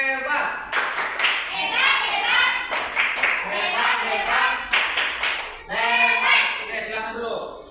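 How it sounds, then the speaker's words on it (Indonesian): A primary-school class claps together after a group presentation, sharp rhythmic bursts of hand claps in a few quick rounds, with children's voices chattering over and between them in a classroom. "tepuk hebat"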